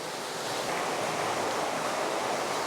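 A waterfall flows inside Charlies Cave, a sea cave, as a steady, loud, broadband roar of rushing water that fills the space without a break.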